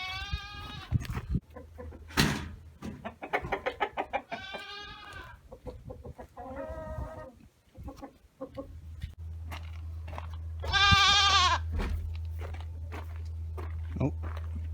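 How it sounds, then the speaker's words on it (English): A goat on a farm bleats in several wavering cries close by, mixed with footsteps and rooster or chicken calls, and another long bleat near the end over a steady low hum. "There's Jake's favorite goat"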